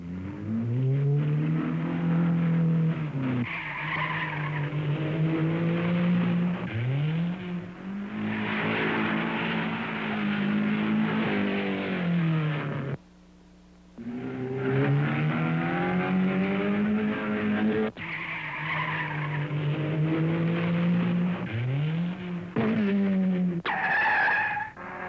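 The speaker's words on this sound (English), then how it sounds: "At Chimney Rock, North Carolina, at the motorized mountain climb." Race cars climbing the motorized mountain hill climb at Chimney Rock, North Carolina, around 1960, their engines revving loudly and continuously in rising and falling sweeps, with one brief drop in the roar midway.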